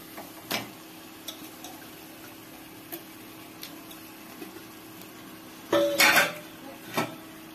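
A spoon taps and clinks sparsely against a pot while mutton curry is stirred, with faint scattered ticks, then a louder scraping clatter near the end and one last knock; no one speaks.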